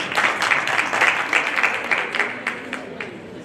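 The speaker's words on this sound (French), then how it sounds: "bravo, on applaudit" Quiz-show audience applauding a correct answer about the sport Rocky Balboa practised, a burst of clapping from a small crowd, fairly close, fading slightly toward the end, with no talking over it.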